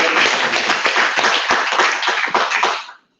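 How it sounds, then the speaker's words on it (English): A short burst of applause from a group at a meeting, dense clapping that fades out after about three seconds. "Can we have a round of applause for Tommy?"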